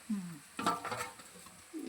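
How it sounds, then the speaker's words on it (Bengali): Marinated duck meat goes into red-fried onions in hot oil, giving a brief close sizzle with a few stirring scrapes and soft clatter in a quiet kitchen. "ভাজা হয়ে গেলে, লাল করে ভাজা হয়ে গেছে, এবার মাংসটা, ম্যারিনেট করা মাংসটা"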